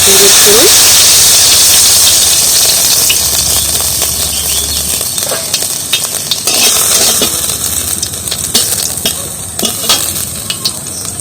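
Cumin seeds fry in hot mustard oil in a wok, a loud steady sizzle and hiss that eases slightly while a utensil clinks and stirs at intervals.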